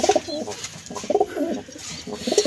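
A breeding pair of domestic pigeons coos nearby in a loft, repeated soft throaty rolling calls in bursts of two to three, with short gaps between.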